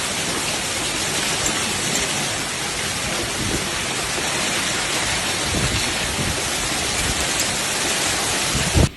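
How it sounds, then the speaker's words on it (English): A sudden violent hailstorm with rain and thunder strikes vineyard country, heard as a dense, steady roar of falling precipitation with a low rumbling undertone, loud and unbroken, ending in a brief sharp knock. "were struck by a sudden and violent hailstorm"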